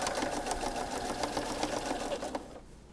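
A sewing machine runs steadily while stitching the elastic casing of a fitted pocket. The motor hums with a fast, even needle rhythm, close and fairly quiet, then stops near the end.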